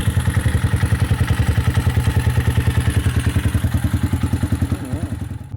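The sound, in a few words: Bashan Brozz 250 motorcycle engine first startup after clutch change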